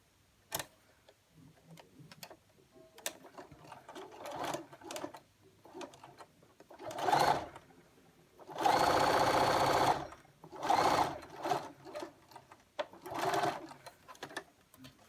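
A sewing machine stitching the folded-over lining of a fabric face mask, running in several loud, close bursts of rapid mechanical whirring separated by short pauses and lighter ticking handling sounds.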